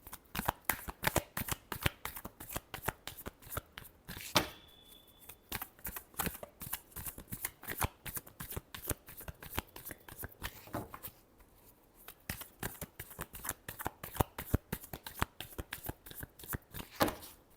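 Tarot cards are shuffled by hand in a rapid, steady run of crisp riffling flicks that fills the whole stretch, close and fairly quiet, with a brief lull partway through and no talking.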